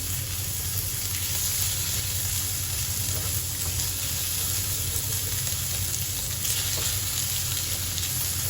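Pork stir-frying with red curry paste in a hot pan, a steady, dense sizzle running evenly throughout with faint stirring underneath and no voices.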